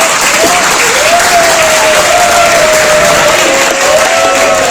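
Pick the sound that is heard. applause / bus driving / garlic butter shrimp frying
applause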